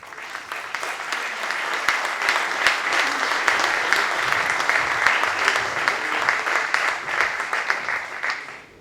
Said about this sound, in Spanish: Recibimos con un gran aplauso al Ministro.